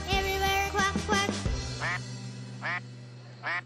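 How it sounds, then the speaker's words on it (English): Duck quacks ring out in a children's nursery rhyme about a farm: sung music fades out, then three short, bright quacks follow at even intervals. "With a quack quack here and a quack quack there"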